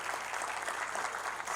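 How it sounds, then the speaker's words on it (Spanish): A church congregation gives a brief round of applause for visitors during a sermon service, a steady soft patter of many hands, quiet and somewhat distant. "Vamos a darle un fuerte aplauso a los visitantes."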